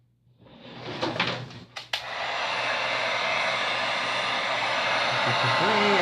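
A heat tool blows steadily close by, warming paint on a canvas, starting after a few soft knocks and handling sounds and then holding a continuous loud rushing hiss to the end.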